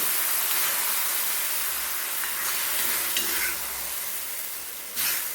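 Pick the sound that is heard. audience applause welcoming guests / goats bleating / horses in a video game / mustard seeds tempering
mustard seeds tempering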